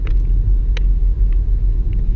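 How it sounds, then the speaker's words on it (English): Monkeys in a safari park enclosure rock a car, making a low, continuous rumble inside the vehicle broken by a few brief knocks and creaks. "Just rocking the car."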